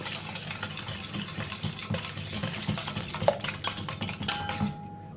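Sugar and oil being mixed for a jam and Nutella cake batter, a continuous close scraping and stirring in a bowl with irregular utensil knocks against the sides, alone without talk.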